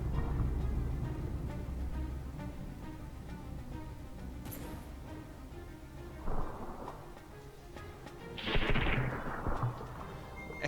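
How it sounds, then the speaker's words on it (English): Heavy naval gunfire from battleships trading artillery shells in the From The Depths naval combat game, a dense rumble of repeated booming shots with a couple of louder blasts and whistling shell sounds later on, no talking. "X-36 is really lobbing those shells at the Satin class over here."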